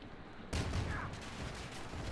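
Gunfire in Call of Duty: Infinite Warfare during a Gun Game match against bots, a sudden burst of shots that rings out then continues as a muffled rattle of fire, fairly faint and distant.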